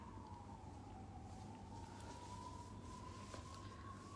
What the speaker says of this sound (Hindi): आप एम्बुलेंस का आवाज़ भी आप सुन रहे हैं ना